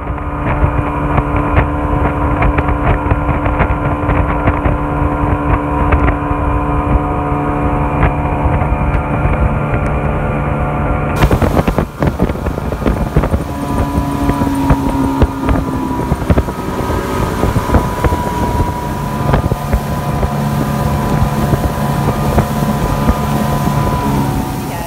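A motorboat engine drones steadily and loudly on the water at Steinhatchee, Florida, with wind buffeting the microphone throughout and no voices.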